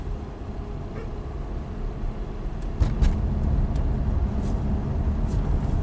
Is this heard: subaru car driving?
yes